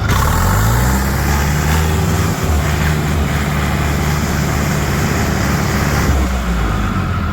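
A tractor engine drones loudly and steadily up close while driving, a low rumbling hum with a slight shift in pitch partway through.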